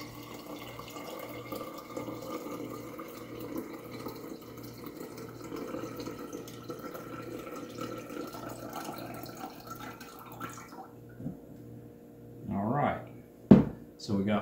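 Cloudy rice rinse water strained through a small strainer into a container, a soft continuous trickle and pour under faint background sounds, ending with a few louder knocks and clinks as the pouring stops.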